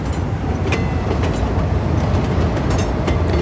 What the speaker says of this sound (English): Oh look, here comes our train.